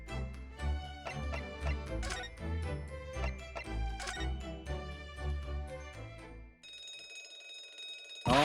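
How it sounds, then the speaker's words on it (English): Shrill ship alarm bell ringing in The Great Ace Attorney Chronicles, a steady metallic ring sounding over busy game music, then continuing alone as the music drops away near the end. "it's the alarm"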